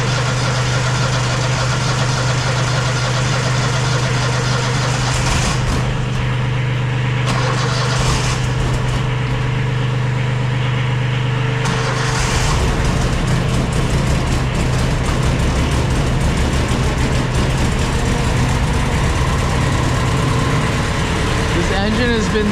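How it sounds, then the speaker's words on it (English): A Walker mower engine idles steadily with a loud, even mechanical drone, then shifts to a rougher, higher-revving run partway through as throttle changes. "This engine has been so good."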